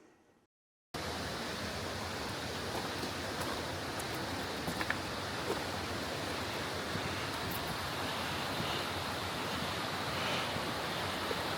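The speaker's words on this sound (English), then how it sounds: "The water running underneath this bridge is actually part of the river" River water in Swaledale rushes steadily beneath a bridge, a constant broadband roar that starts abruptly after a second of near silence and holds loud and even.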